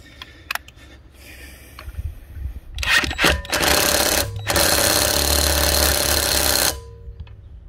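A Parkside 20V cordless impact wrench rated at 400 Nm hammers loudly and nearby in a few short bursts, followed by a long continuous run of several seconds before it stops, with no talking.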